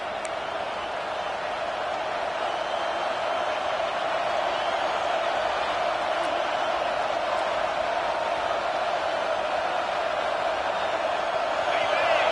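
A stadium crowd at a football game roars steadily during a third-down defensive stand, a dense, unbroken wash of cheering that holds at the same level throughout.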